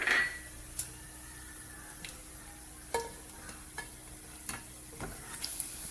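Cashew nuts fry in a pan for a Malabar dum chicken biryani, a quiet sizzle punctuated by about eight sharp clinks and scrapes of a spoon stirring against the pan.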